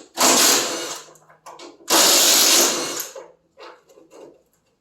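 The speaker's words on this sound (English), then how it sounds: "I got my little impact here, about a 6-inch extension and a 10 millimeter" An impact driver with a 6-inch extension and 10 mm socket spins off bolts from a John Deere 100 series riding mower deck cover, in two loud close bursts about a second each, followed by softer clicks and rattles.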